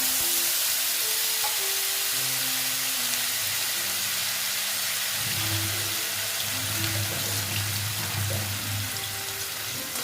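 Spice paste hits a pan with garam masala for a vegetarian paneer dish and fries with a steady, hissing sizzle, close and even throughout, with faint tonal sounds in the background and no speech.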